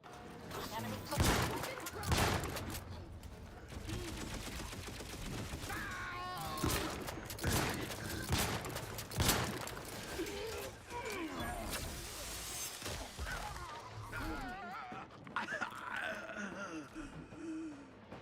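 Turret gunfire in the video game The Outer Worlds 2, with bursts of shots and mechanical clatter running through a busy battle mix under constant speech.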